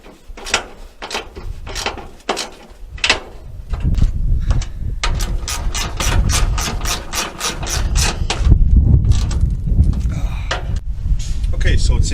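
Bolts on a Chevrolet C50 truck battery tray being run in with a ratchet: rapid clicking bursts that repeat close by over a low rumble, with someone talking in the background.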